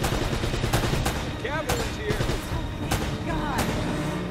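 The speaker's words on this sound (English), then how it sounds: "I'm shooting him in the leg" Rapid bursts of gunfire in Uncharted: Drake's Fortune, loud repeated sharp cracks in quick succession mixed with game sound effects and a voice speaking over the shooting.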